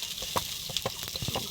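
Roti frying on a stove for a light breakfast, a soft steady sizzle with a few faint scattered pops and clicks, close and quiet.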